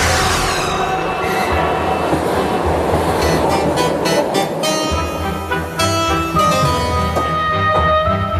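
A Moscow suburban electric commuter train runs along the rails, giving a steady loud rumble with rhythmic clatter and a ringing metallic tone that holds throughout.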